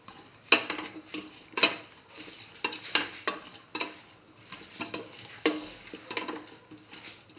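Cauliflower, chayote and rice being mixed with a utensil at close range: irregular scraping and stirring strokes broken by sharp ticks and clicks, with no voices.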